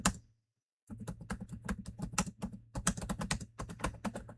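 Fast keyboard typing, a dense, close stream of crisp key clicks that stops briefly after an opening burst, then resumes and continues steadily.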